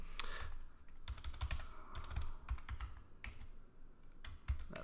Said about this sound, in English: let's just type it out one more time